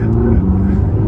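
Mercedes-AMG GT Black Series on semi-slick tyres spinning its wheels on a wet road, a brief steady engine roar with low droning tones, loud and close.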